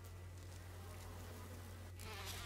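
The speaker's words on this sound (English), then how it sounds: "Bees are still here." Buzzing bees swarming around a giant beehive in the video game Resident Evil, a continuous faint insect drone with a low steady hum underneath, no talking.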